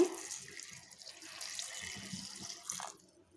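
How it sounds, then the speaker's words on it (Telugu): Water pours and splashes into a pot for about three seconds, a close, steady gush that tapers off and stops near the end. "ఇప్పుడు వాటర్ పోయాలి, బాయిల్ చేయాలన్నమాట."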